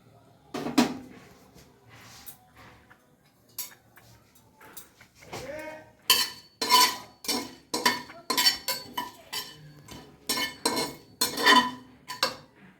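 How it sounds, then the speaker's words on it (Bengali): Dry chilli, cinnamon, clove, cumin and cardamom being heated in a pan for a pumpkin dish, with a spoon clinking and scraping against the metal in irregular bursts that grow busier and louder toward the end. "আমি এবার মশলাটা গরম করে নিচ্ছি।"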